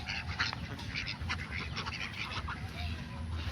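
Ducks quack near a pond in a rural village, several faint calls scattered over a low steady background rumble, the birds at some distance.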